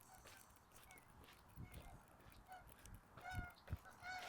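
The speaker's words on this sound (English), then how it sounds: "Lots of geese flying around." Geese honk while flying over a lakeside path in Regina, several distant calls scattered through the clip amid outdoor background noise.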